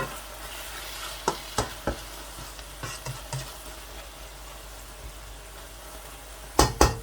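Capsicum keema with coriander is stirred in a handi pot, a low sizzle punctuated by several sharp metallic spoon knocks and scrapes, loudest near the end.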